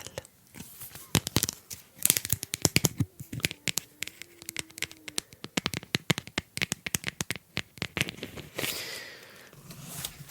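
Plastic cards from a handbag, among them a health insurance card, a library card, a bank card and a driving licence, clicking and tapping together in quick, uneven bursts at close range with rustling between them and no speech.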